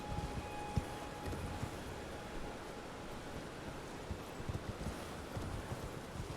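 Horse hooves clop steadily in Elden Ring as a mount moves along a shore with jellyfish nearby, soft repeated hoofbeats set against a constant wash of ambient noise.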